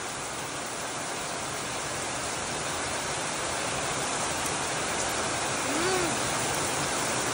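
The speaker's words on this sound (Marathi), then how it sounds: "जोरदार पाऊस पडतोय." Heavy monsoon rain falls in a Konkan village, a dense, constant roar of downpour that fills the space evenly from start to finish.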